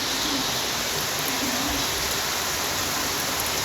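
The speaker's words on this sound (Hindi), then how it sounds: "ये देखो गाइस बारिश, क्या बारिश पड़ रही है।" Heavy rain pours down outside, a steady, dense hiss of water that stays loud and unbroken throughout, with no voices.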